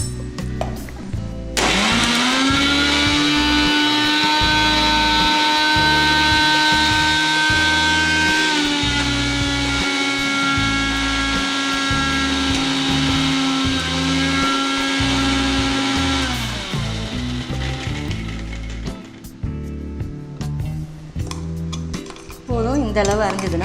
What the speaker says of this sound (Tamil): இன்னைக்கு கூட கொஞ்சம் நல்லா ஃபைன் பேஸ்ட்டாக அரைச்சிக்கலாம்.